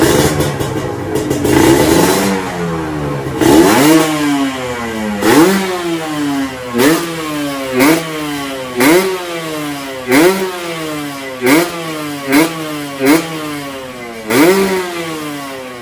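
A Ninja RR motorcycle engine fitted with an RS-1 cable revs again and again in a steady rhythm, about a dozen sharp rises and drops, loud and close with no talking.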